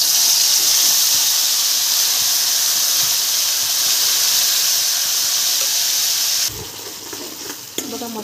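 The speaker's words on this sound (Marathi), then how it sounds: "बघा मसाला फ्राय होत आहे" Spice masala frying in hot oil in a wok for a Maharashtrian dubuk vada curry, a steady loud sizzle and hiss close up that drops and turns sputtery near the end, with no talk over it.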